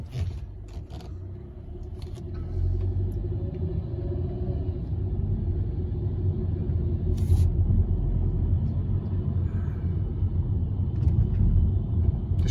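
A 2018 Hyundai Sonata on a test drive, a steady low road rumble and engine hum from inside the cabin, growing slightly louder as it rolls along, with a few faint clicks early on and no voices.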